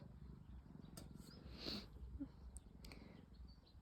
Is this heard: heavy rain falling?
no